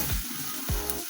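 Shallots or onions frying in a little oil in a pan, a steady close sizzle running the whole time with a couple of brief low stirring scrapes and no talk.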